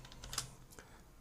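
Quiet typing on a computer keyboard, a short run of soft key clicks at close range with one slightly louder tap.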